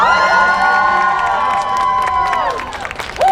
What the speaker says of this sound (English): If you want Talon to win, do a little cheer.